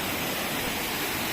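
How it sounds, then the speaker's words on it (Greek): A small forest waterfall gives a dense, even rushing hiss of falling water, close and constant with no talk. "Δείτε εδώ, έφτασα σε έναν καταραχτούλι"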